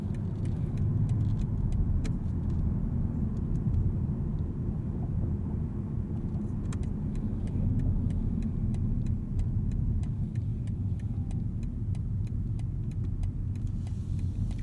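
A 2023 BMW i7 xDrive60 electric car coasting, heard from inside the cabin as a steady low rumble of road and tire noise with faint ticks over it, continuous and fairly loud with no voices.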